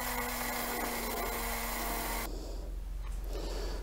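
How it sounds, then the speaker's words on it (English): A small electric grinder whizzes eggshells into fine powder, a steady loud mechanical whir that cuts off partway, leaving a quieter rattling hum alone. "all it takes really is a quick whiz up in that grinder to get those eggshells to a powder"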